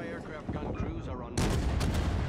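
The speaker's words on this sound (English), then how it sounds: "Anti-aircraft gun crews are on." Anti-aircraft guns open fire in World of Warships, a dense, loud burst of rapid gunfire that starts abruptly partway through and continues over a steady background of game noise.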